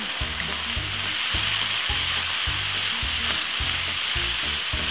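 Mixed vegetables and tuna sizzle loudly in a pan, with steady frying hiss and a regular rhythm of spoon scrapes as everything is stirred, close up and without speech.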